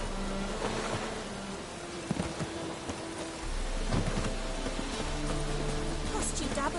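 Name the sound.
rain in a video game with Geralt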